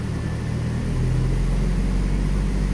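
An engine running on rusEfi control during a variable valve timing test gives a steady low rumble that swells louder as throttle is added partway through.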